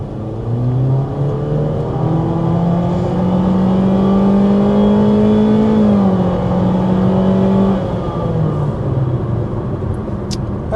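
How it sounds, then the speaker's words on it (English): A 2026 Honda HR-V under hard acceleration, its engine note droning and climbing steadily in pitch inside the cabin, then easing off after several seconds, loud and continuous with no talking. "we need to go ahead and start by giving you a hard acceleration"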